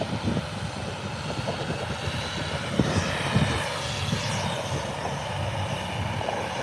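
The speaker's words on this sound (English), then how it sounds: "Our next 2 aircraft are on their way in." A fixed-wing airliner arriving at Birmingham airport gives a steady, fairly loud broadband engine roar that holds throughout, with no voices over it.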